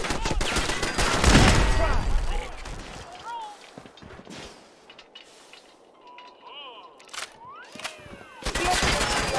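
Gunfire in the video game Fallout 4: heavy bursts of rapid shots open the scene, then scattered sharp cracks and impacts follow before another loud volley. Voices speak amid the shooting.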